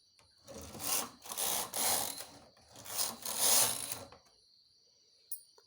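Hand knitting machine carriage sliding across the needle bed to make two stitches, heard as a few bursts of mechanical rattling and clacking at close range, each lasting about a second, then quiet with a small click at the end; no talking.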